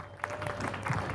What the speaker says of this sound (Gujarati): દરેકને આપણે તાળીઓ દ્વારા વેલકમ કરીએ.